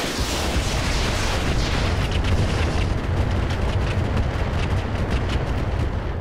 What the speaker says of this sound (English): Standard ammo, firing.